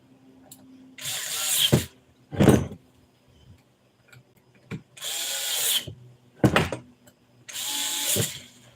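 Power drill driving bolts into part of an eAhora Juliet electric bike, heard as several short separate bursts of whirring with brief pauses between, close and fairly loud, with no talking.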